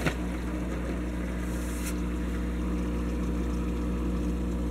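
A Hydor canister aquarium filter being primed gives a steady low hum and whirring, with a faint hiss of water and air, close and continuous with no talking.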